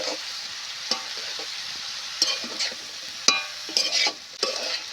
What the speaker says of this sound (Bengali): এবার আমি ঢাকনাটা খুলে এইভাবে নেড়ে চেড়ে খুব সুন্দর মতো করে